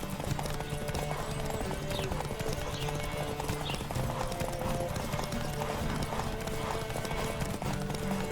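Horse galloping in The Witcher 3: steady clip-clop hoofbeats with occasional whinnies, loud and continuous over rushing game ambience, with no talking.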